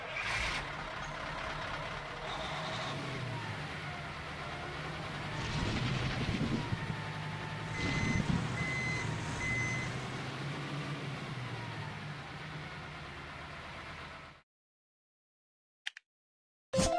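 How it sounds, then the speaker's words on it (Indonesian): A road roller with a steady engine drone and repeated reversing beeps, moderately close, running for about fourteen seconds before cutting to near silence, with a couple of brief clicks at the end. "Penggiling jalan."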